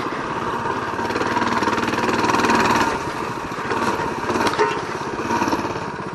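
A motorbike engine runs steadily while the rider travels along a hill-climb trail, a loud, continuous droning roar that swells and eases slightly with the throttle throughout.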